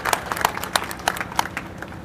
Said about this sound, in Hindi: इनका जोरदार तालियों से स्वागत कीजिए